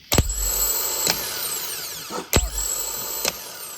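A 2017-or-later Polaris Sportsman 850 High Lifter ATV starter motor whirs close up in a steady mechanical whine, broken by four sharp, loud clicks or jolts at roughly one-second intervals, with no talking.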